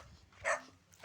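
A single short dog bark or yip, fairly faint and brief, heard alone against a quiet outdoor background.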